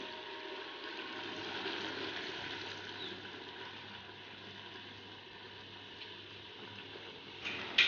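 Half a glass of water goes into a pressure cooker of browned cauliflower and mutton, giving a soft continuous pouring and sizzling rush that runs steadily for several seconds at low level, ending with a small clatter.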